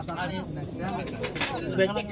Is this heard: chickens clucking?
no